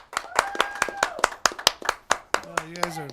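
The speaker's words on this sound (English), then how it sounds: "Applause for them again, please." Audience at a local evening show clapping in sparse, separate claps rather than a dense roar, with voices and a brief cheer heard among them.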